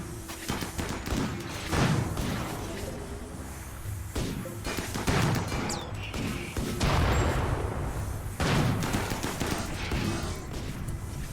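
Cannons fire in the video game Rimworld: heavy booming volleys land every few seconds with a rumbling tail, and almost no voice over them.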